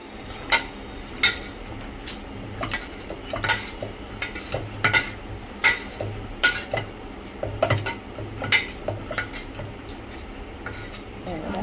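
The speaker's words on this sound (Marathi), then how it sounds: "आता आपल्याला भाजी ही मॅश करून घ्यायची आहे" Cooked shevla wild vegetable being mashed in a pot, with repeated scraping and clinking utensil strikes against the metal at an uneven rhythm, close and moderately loud, with a low hum underneath.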